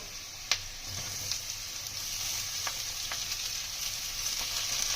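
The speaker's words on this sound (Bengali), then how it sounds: "মুগ ডালটা দিয়ে দেবো" Mung dal tipped into a hot pan already holding semolina for dry khichuri sets off a soft, steady sizzle, with a sharp tap at the start and a few faint clicks of stirring.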